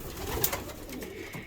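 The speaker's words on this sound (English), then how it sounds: "And we've got all these birds in here." Pigeons or doves coo softly in a short, low, burbling phrase inside an aviary, with faint background rustle.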